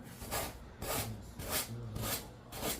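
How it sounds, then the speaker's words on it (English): A finger sander works over a small wooden star decoration, making rhythmic rasping strokes about every half second, close and fairly quiet, with no talk. "once again I got my finger sander"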